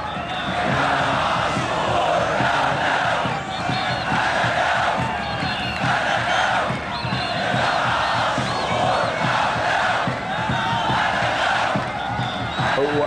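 Football fans in Egypt chant for midfielder Imam Ashour, a dense crowd roaring rhythmic cheers that stay loud and steady throughout without a break.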